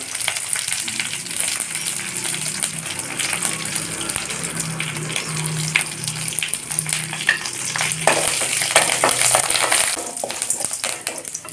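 Broken dried red chillies frying in oil in a pan, a loud continuous crackling sizzle with occasional stirring scrapes, growing slightly busier toward the end.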